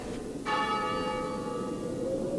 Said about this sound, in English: There's the bell again.